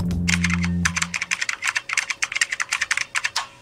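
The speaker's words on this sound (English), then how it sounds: "I want it to sound exactly like the keyboard from The Sims 1." Rapid, clicky keyboard typing from the video game The Sims 1 comes in a quick, uneven run of sharp keystrokes close by. A low hum at the start fades out, and no one talks.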